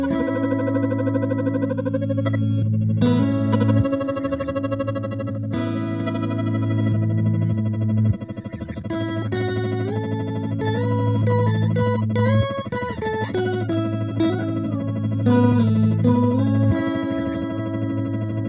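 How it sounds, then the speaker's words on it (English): Electric guitar feeding an Empress Effects Zoia pedal, its freeze effect holding a dry guitar note as a sustained drone while fresh notes are picked over it, with chorus and echo textures, steady and moderately loud, no talking. "you can also use the freeze to just freeze your dry guitar signal as well"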